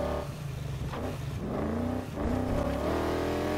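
A car engine revs and drones in the racing video game Need for Speed Heat, rising and shifting in pitch over a steady, fairly loud roar with no talking.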